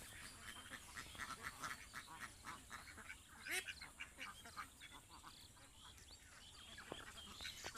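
Large ducks on a duck farm quack faintly in the distance, with repeated calls overlapping against a quiet outdoor background.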